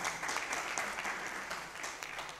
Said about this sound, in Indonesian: keren, tepuk tangan kayak gini itu kan